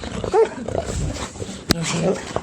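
Small dogs whimper and give short yips and barks close by while people greet them; talk runs over the excited canine noises throughout.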